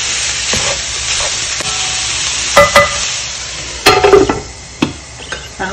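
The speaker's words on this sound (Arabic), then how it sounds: "قلبتهم لحد ما تغير لون الكبده" Liver and kidneys sizzle steadily in a hot pan, with a continuous broadband hiss broken by a few sharp scraping clatters as the pieces are stirred.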